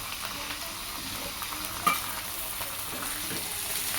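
Baingan bharta of mashed eggplant with crushed peanuts and chopped coriander sautéed in a pan, a steady soft sizzle under light stirring scrapes with one sharper clink near the middle; no talking.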